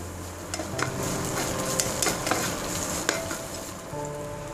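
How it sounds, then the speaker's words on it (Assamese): Onions fry in the oil left over from half-frying singi fish for a bhedailota curry, giving a loud, close, continuous sizzle with stirring scrapes and light clinks of a utensil against the pan. "একেখিনি তেলতে পিঁয়াজ দি দিছোঁ।"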